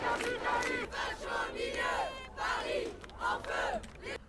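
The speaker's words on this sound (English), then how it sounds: "A crowd of freaks." A crowd of French rioters shouts and chants in rhythmic bursts, many voices rising and falling together in loud repeated cries at close range.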